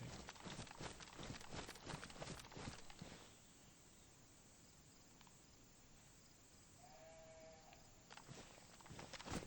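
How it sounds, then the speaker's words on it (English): A sheep in the DayZ video game bleats once, faint and distant, after a stretch of footsteps and rustling on the ground, with a low outdoor ambience around it. "I think I can hear a sheep."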